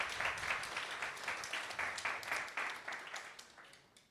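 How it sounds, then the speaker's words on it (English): Audience applauding award winners and participants at an innovator awards ceremony, a dense, sustained burst of many hands clapping that thins toward the end, with a faint voice underneath. "So a round of applause for everyone who won and took part."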